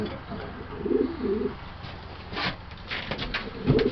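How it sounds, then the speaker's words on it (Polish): A racing pigeon, a prized bird of old Janssen bloodlines, cooing in a loft in a few soft throaty bursts at the start and end, close by over a low background hum. "To jest ulubiony gołąb Roberta."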